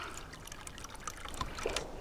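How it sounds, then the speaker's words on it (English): Spring water trickles out of a pipe beside the Appalachian Trail near Lehigh Gap, a faint, soft burble with small irregular drips heard close by. "It's a comforting sound there, just listening to the water"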